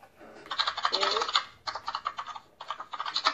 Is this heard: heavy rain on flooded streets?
no